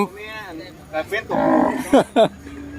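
Cattle at a livestock market in Sakon Nakhon, Thailand, with a cow giving several loud, close moos in rising and falling calls, mixed with nearby talk.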